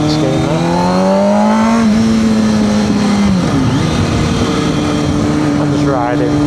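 A motorcycle rides along the road at a training area, its engine droning loudly and rising and falling in pitch as it revs and shifts, with steady wind rush and a voice talking over it.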